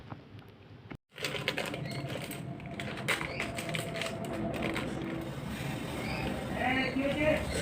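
Poppy leaves are poured into a container with a busy, close rattle of small dry clicks that starts sharply after a brief gap and goes on for several seconds, while someone talks.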